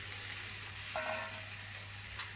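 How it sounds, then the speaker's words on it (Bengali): Chopped vegetables frying over browned onions in a pan, giving a steady, fairly quiet sizzle with a brief louder hiss partway through. "সবজিগুলো দিয়ে ভালো করে একটু ভেজে নেব।"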